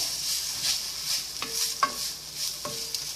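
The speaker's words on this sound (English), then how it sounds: "Garlic, in it goes. So you're just gonna spin that around a little bit" Garlic and onions sizzle in a pan for chana masala, with a soft constant hiss under a few distinct scraping strokes of a utensil as the pan is stirred, close and fairly quiet, with no talking.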